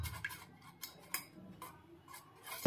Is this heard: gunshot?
no